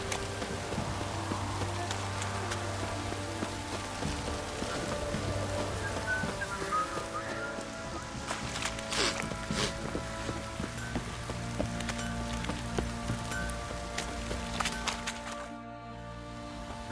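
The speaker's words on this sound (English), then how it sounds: "This downpour's a bastard" Steady heavy rain pours down without a break in The Witcher, with hooves clip-clopping and scattered clatter in the mix, and no voices.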